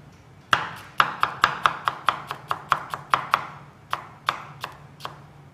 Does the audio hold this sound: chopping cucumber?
yes